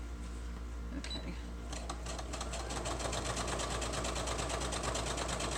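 A sewing machine stitches through fabric with rapid, regular clicks that start up after a brief beep and continue steadily, close by.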